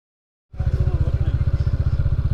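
After a brief silence, a motorcycle engine starts up close by and keeps chugging in an even, rapid pulse inside a crowded market.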